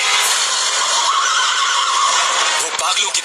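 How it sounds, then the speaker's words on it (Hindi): A horse neighs loudly and close in a dramatised story scene, a broad whinny held over about three seconds and ending in a sharp break. "मेरा घोड़ा निकालो।"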